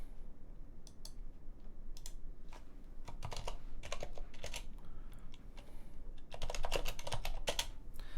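Rapid typing on a computer keyboard, bursts of crisp key clicks in uneven runs with brief pauses, close and fairly loud with no talk.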